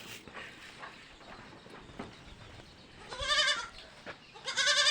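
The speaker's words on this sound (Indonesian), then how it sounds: "Ini ada anak kambingnya lagi" A young goat on a goat farm in Aceh bleats twice near the end, short wavering cries over faint background clatter and farm noise.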